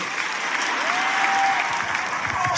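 A large church congregation cheers and applauds loudly in a packed worship hall, a dense, sustained wash of clapping and voices with no single speaker.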